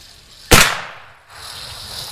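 A single sharp rifle shot at a mountain man meet, loud and close, followed by a short decaying echo and outdoor ambience.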